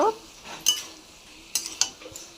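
Soya chunks stirred with spices in a pan for a boneless meat-style curry: a few short scrapes and metallic clinks of a spoon over a faint sizzle.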